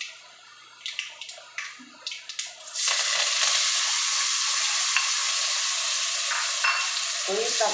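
Tomatoes and curry leaves dropped into spluttering mustard and fenugreek seeds in a clay pot for prawn curry: a few light taps, then a sudden, steady close sizzle of frying that keeps going to the end.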